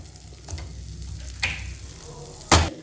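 Coconut thokku frying and being stirred in a pan for a simple breakfast, a soft steady sizzle with a few sharp scraping clinks of the spoon against the pan, close up and without talk.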